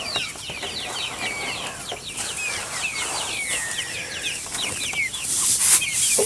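Backyard chickens cluck and chirp softly in a quiet outdoor setting, with brief scattered calls over a faint ambient background and no talking.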